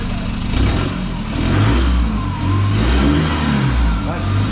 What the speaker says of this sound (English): you want to give it a bit of a rev and I'll see if any black smoke comes out